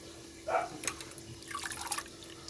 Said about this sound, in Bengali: এই যে পালং শাকটা জলে ভিজিয়ে রেখেছিলাম ধুয়ে নিচ্ছি এতে প্রচণ্ড মাটি থাকে